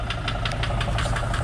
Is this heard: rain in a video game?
no